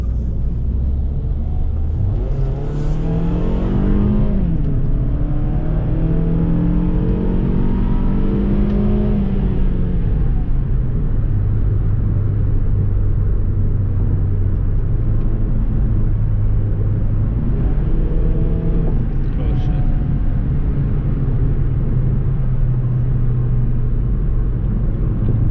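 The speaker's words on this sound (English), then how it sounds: "Why does my car making that noise?" Car engine revving and rumbling at a street car meet in Mexico, loud and steady throughout, with rising and falling engine pitch sweeps and no talk.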